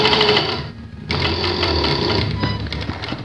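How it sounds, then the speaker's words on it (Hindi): A sewing machine runs steadily, stitching a zip pocket on a shalwar, with a brief pause near the start before the close, continuous whirring motor and needle clatter resumes alone without talk. "बकिया सिलाई को मुकम्मल करें।"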